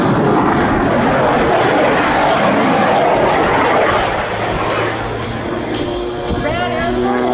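An open-cockpit aerobatic airplane carrying extra weight on its belly roars through a routine at the Oshkosh airshow, its engine loud and sustained before easing slightly, with a voice talking over it.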